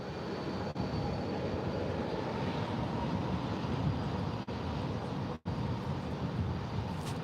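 Airplane taking off from runway 18 left at Dallas Fort Worth airport, a steady, distant engine roar that holds evenly throughout without voices.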